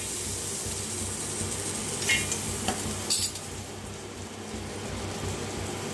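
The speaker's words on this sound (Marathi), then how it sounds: "आता गॅसवर ठेवलाय तवा, खोबरं भाजून घेऊया आपण।" Grated coconut dry-roasting on a flat tawa over a gas stove while a cauliflower dish is cooked. A soft, steady sizzle runs throughout, with a few louder scraping stirs of the pan in the middle.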